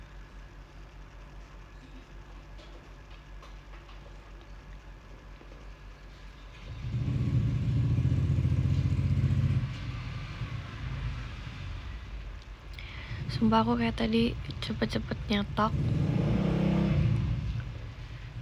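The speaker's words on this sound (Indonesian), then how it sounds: "Please banget, stop dengan suara motor di luar." Motorcycles go by outside a room during an Indonesian live stream, two loud rumbling passes, each swelling and fading over a few seconds, with someone speaking briefly in between.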